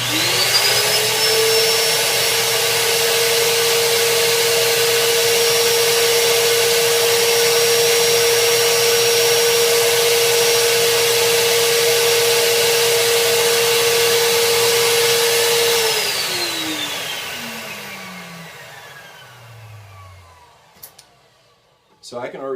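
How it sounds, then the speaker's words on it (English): A Music Hall WCS-2 record cleaner vacuum runs as a loud, close, steady whine and rush for about fifteen seconds, then its pitch slides down as the motor spins down to quiet. "I'm going to swing the wand over and start the vacuum."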